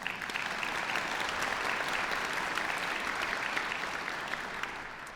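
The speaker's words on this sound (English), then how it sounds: "Please give yourselves a round of applause." Sustained applause from a concert audience at a festival of voices grand finale, dense and steady clapping filling the hall for about five seconds with no break.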